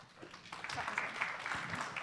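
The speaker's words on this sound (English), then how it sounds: "Please welcome him with a warm round of applause." Audience applause welcomes a speaker to the stage at a tech center winter summit. It swells after a quieter start and holds as a steady, dense crowd clapping for about a second and a half, with some voices mixed in.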